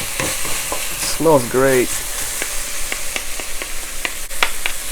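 Kimchi stir-frying in a pan, a close, steady sizzle with scraping stirs and small clicks, while a voice briefly speaks over it.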